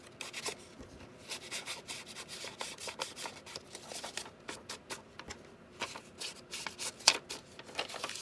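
Paper pocket edges for a junk journal are rubbed with a vintage photo ink pad, giving soft, quiet scuffing and brushing strokes in an irregular rhythm, close up and without speech.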